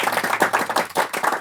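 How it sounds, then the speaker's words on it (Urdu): Hands clap in a quick, steady rhythm, about a dozen sharp claps in just over a second, close and loud with no voices. "تالی تو بجا دو."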